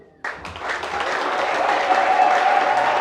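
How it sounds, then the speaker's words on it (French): A church congregation bursts into applause for the Lord at a Sunday service, sustained dense clapping from a large crowd that starts suddenly and swells, with a few voices faintly underneath. "pour acclamer le Seigneur, est-ce qu'on peut acclamer le Seigneur?"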